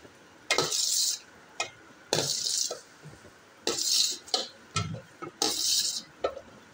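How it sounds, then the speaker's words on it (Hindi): Cut fruit being mixed in a large bowl for creamy fruit chaat: repeated bursts of clattering, scraping utensil strokes against the vessel, in uneven rhythm with short pauses between, close and fairly clear, with no talk. "अब इसकी मिक्सिंग करनी है बस।"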